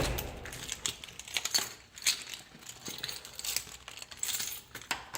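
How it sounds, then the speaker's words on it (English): Keys jangle and clink against a door lock in a series of quick metallic rattles, close to the microphone, with no talk over them. "So I'm going to lock the door."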